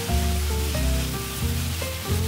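Mushrooms and scallions stir-frying in a wrought-iron wok, a steady loud sizzle with a low rumbling hum underneath, close and continuous.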